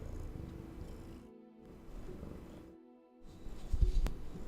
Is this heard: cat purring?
yes